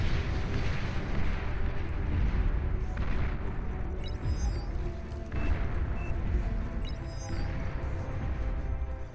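A rocket barrage pounds units in a Beyond All Reason 8v8 battle: a dense, rumbling wall of overlapping explosions and booms, with a few brighter pops and metallic pings on top.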